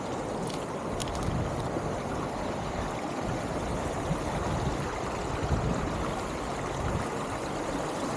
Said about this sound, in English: let's see if I can get across this creek without getting wet.